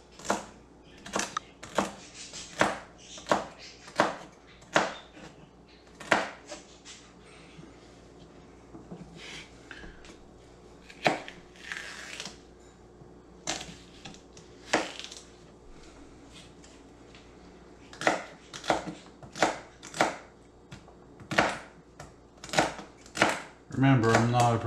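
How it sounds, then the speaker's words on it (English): A knife chops vegetables for an Easter turkey dinner, with sharp, uneven taps on a cutting board in bursts, a short pause midway, then a quicker flurry of cuts near the end. "I'm going to chop all this here stuff right up"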